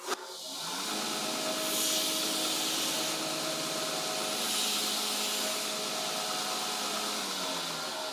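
Belt grinder running steadily while its belt is dressed by grinding scrap carbide against it, a continuous broadband hiss and whir with a faint whine, near and steady, no talk.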